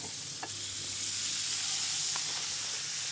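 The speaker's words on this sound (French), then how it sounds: "Et on remet un peu de beurre dans la poêle." Butter sizzling in a frying pan while endives are cooked, a steady bright hiss and crackle with a couple of soft spatula clicks, close and continuous with no talking.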